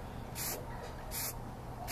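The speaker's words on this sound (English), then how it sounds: "taking the can and just spraying until you see that the part that you want sprayed has been covered" A spray paint can used for shading lets out three short, hissing bursts in an even rhythm, close and fairly loud, with quieter background noise in between.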